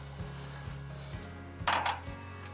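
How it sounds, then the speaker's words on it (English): A whisk stirs milk into a roux in a pan, making faint, rhythmic metallic scraping and clinking against the pan with one brief louder clatter midway. "Whisk the ingredients together"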